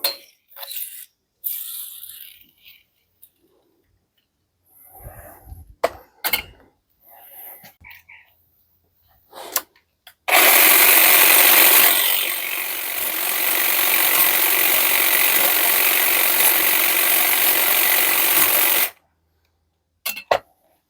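A Parkside PHSA 20-Li C3 20V cordless hedge trimmer runs with a loud, steady buzzing whir for about eight seconds, starting abruptly and stopping cleanly, preceded by quiet handling clicks and scattered knocks.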